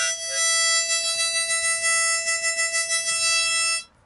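A single harmonica note from hole 4, played for a blues lesson, holds steady and clear for about three and a half seconds before cutting off sharply, with no voice over it.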